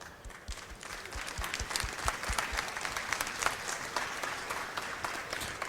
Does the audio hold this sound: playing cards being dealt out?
no